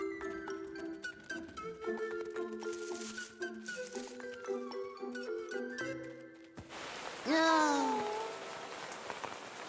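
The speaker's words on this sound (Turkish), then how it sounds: "Ah bakın yağmur yağacak gibi." Rain patters steadily in the background of a children's cartoon, beneath animated music tones and a rising whistle-like effect near the end.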